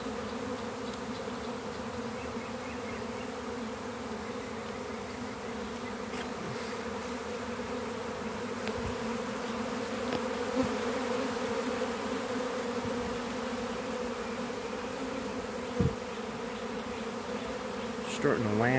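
A swarm of honeybees buzzes all around at close range, a dense, continuous droning hum with individual bees zipping past now and then.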